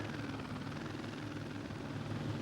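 A helicopter in the PS2 wakeboarding game Wakeboarding Unleashed gives off a steady, even rotor drone with a broad rushing texture, fairly faint and heard alone without speech.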